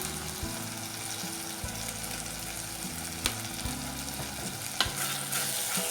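Turmeric and other spice powders sauté with tomato over a low flame for a Kerala-style crab roast, giving an even, close sizzle. A few sharp stirring clicks from the spoon punctuate it.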